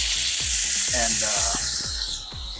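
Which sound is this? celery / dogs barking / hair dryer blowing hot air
celery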